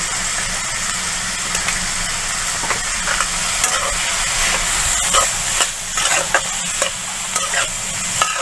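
Snake gourd and chana dal curry being stirred in a sizzling pan, a spoon scraping and clattering in an uneven rhythm over a continuous close fry, no talking.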